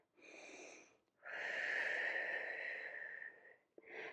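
A person doing a Pilates stretch breathes audibly and close by: a short breath, then a long, drawn-out exhale of about two seconds, then the start of another breath.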